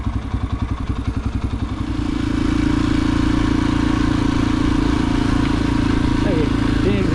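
A pit bike motorcycle riding on sand dunes: a chugging, pulsing engine rhythm builds into a steady, loud, close drone that continues unbroken, with voices talking over it.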